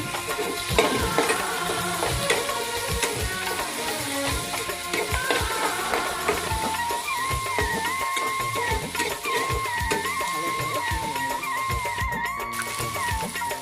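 Tomato and dried fish sizzle and crackle steadily as they fry in a pan, with repeated scraping and stirring clatter throughout.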